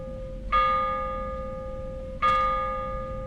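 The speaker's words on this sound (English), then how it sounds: "Let's ring this bell." A bell in a video game strikes twice, each a clear ringing tone that slowly fades, spaced under two seconds apart over a faint background hum.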